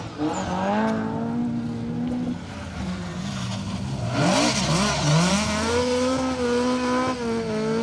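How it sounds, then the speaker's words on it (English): A Nissan Pulsar GTI rally car on a Welsh special stage at the Rali Menai Stages, its engine revving and changing pitch as it accelerates past, loud and continuous throughout, with no talk. "It was Harry Rayler, and Kieran Ledger in the Nissan Pulsar GTI"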